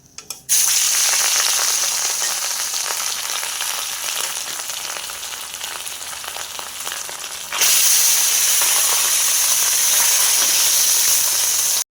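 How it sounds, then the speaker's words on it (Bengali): Swordfish frying in mustard oil in a wok, a loud, dense, close sizzle hissing steadily for most of the clip and surging louder partway through. "কড়াইয়ের মধ্যে এই সরিষার তেল দিয়েছি, এখন একে একে মাছগুলো সব ছেড়ে দেবো।"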